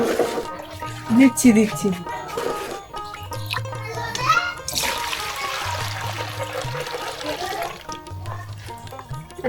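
Hilsa fish being rinsed in a pot of water for mustard hilsa: water splashes and trickles, loudest midway, with people talking close by throughout.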